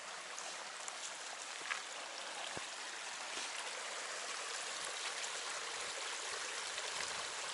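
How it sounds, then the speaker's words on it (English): Small creek on the Appalachian Trail, a steady broadband rush of flowing water filling the whole stretch at an even level, with no talk over it. "A little creek, actually."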